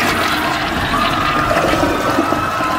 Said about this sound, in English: let's see if it will survive getting flushed